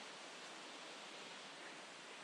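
A waterfall on a forest trail in Tremont gives a steady, dense broadband rush of falling water, even and continuous throughout the short stretch with no voices.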